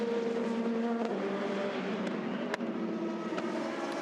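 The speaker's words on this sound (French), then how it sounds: "Maintenant en piste, Louis Prête avec la Porsche numéro 78, 50e." Porsche race car number 78 on track at the 2019 24 Hours of Le Mans, its engine droning with a steady pitch that slowly falls as it passes, loud and close, with small clicks over the roar.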